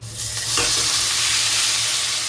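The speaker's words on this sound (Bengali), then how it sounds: "চাউমিনটা একটু ভেজে নিয়ে তারপরে এর মধ্যে ডিমটা দেবো" Boiled chow mein noodles fry in a pan, with a loud, dense, constant sizzle and a few stirring scrapes near the start, close up and without voices.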